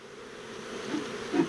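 Agitated honey bees hum steadily around a hive in a Colorado apiary, a dense close drone with small swells in loudness and no voices.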